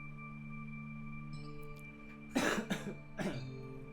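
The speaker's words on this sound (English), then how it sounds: "still recovering from the cough" A person coughs twice in quick, harsh bursts, close and fairly loud, over a steady tonal music bed.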